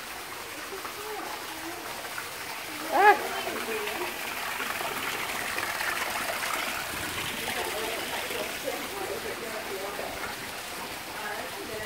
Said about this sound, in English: Some water coming in.